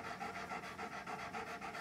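A dog pants heavily in the heat, close up, with quick, steady, rhythmic breaths, about seven in under two seconds, no talking.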